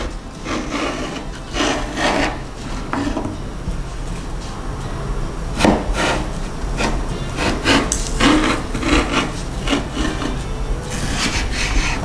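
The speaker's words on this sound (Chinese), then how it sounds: "把小黄瓜对半切， 这里可以切成3等份。" A knife cuts a small cucumber in half and then into thirds on a cutting board, giving close, irregular chopping taps and scrapes over quiet background noise.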